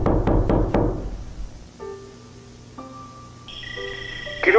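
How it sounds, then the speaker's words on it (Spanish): Four quick heavy knocks on a wooden house door, close and loud, followed by sustained eerie electronic tones in an analog horror setting. "el lobo no tarda en aparecer y comienza a tocar la puerta de la casa"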